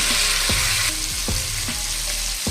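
Yam and potato pieces fry in hot oil with turmeric, a loud, dense, continuous sizzle up close, broken by a few rhythmic stirring scrapes and no voices.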